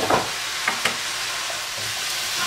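Lamb and spices fry in a pan with a constant close sizzle, punctuated by a few sharp scrapes and taps of stirring near the start.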